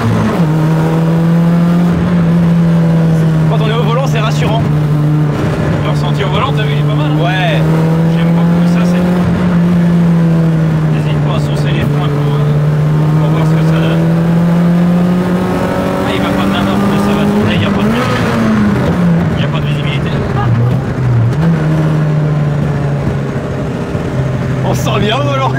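A Citroën AX track car driven on a public road, its engine droning steadily and loud throughout with small rises and dips in revs, while people talk inside the cabin over it.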